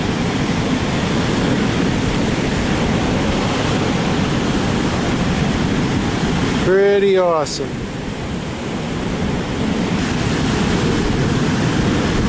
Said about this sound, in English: The awesome power of the ocean.